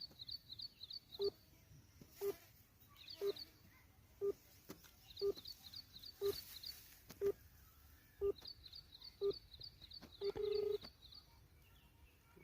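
Faint telephone tones beep at a steady pace, about one per second, with brief chirping bursts between them.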